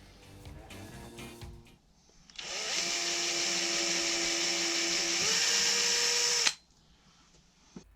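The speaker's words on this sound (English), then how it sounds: "she did actually have the drill in reverse to start off with" A power drill, set in reverse, whirs steadily for about four seconds, its pitch dipping slightly near the end before it cuts off, with quieter clattering before it starts, during a narrowboat fit-out.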